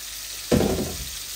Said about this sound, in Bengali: তো আমি বসিয়ে দিয়েছি, মাছগুলো আস্তে আস্তে ভাজা ভাজা হোক।